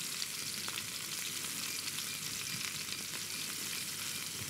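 Rice with water, salt, pepper and cumin bubbling and sizzling in a pot, a steady close, soft frying hiss with faint crackles throughout and no talking.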